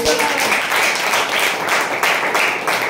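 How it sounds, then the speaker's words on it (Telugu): Audience clapping at a Telugu Christian testimony gathering, a dense, steady patter of many hands filling the room at close range. "చప్పట్లు కొట్టండి"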